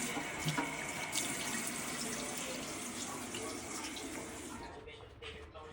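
A rag is held under a running tap, water splashing steadily and close for several seconds before the flow cuts off near the end.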